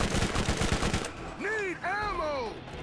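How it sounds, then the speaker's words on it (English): Rapid gunfire in Borderlands, aimed at a boss's eye, rattling loud and close for about a second as a fast burst, then giving way to swooping electronic whines and game effects. "I just gotta keep shooting at the eye"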